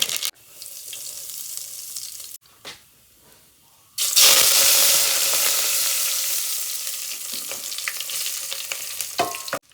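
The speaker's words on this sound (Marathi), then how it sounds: "त्यात मोहरी हिंग कडीपत्ता आणि सुक्या मिरच्यांची फोडणी दिली" Mustard seeds, asafoetida, curry leaves and dried red chillies crackle in hot oil, then a loud burst of sizzling erupts and keeps frying vigorously, close by.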